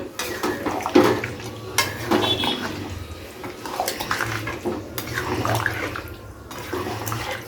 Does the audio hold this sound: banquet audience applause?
no